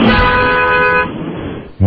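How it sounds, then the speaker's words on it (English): A car horn sounds loud and close for about a second, a steady honk that cuts off, heard at a traffic light during a city commute with passing road noise after. "I only got one honk and a couple of birds"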